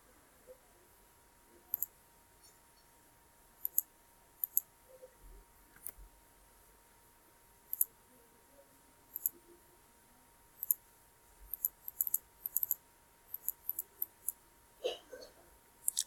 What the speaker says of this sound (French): Je clique sur supprimer.